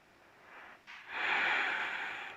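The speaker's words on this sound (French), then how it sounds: "Prenez de longues respirations." Breath during a yoga warm-up session: a short airy inhale, then a longer, louder breath through the nose, close and alone.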